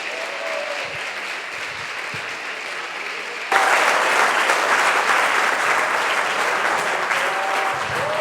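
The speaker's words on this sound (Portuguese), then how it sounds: "você pode aplaudir Jesus com o melhor aplauso que você tiver" Church congregation applauding continuously, a steady wash of clapping that swells noticeably louder midway through, with faint voices and a sustained tone beneath.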